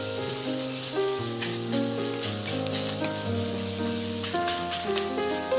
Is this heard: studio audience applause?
no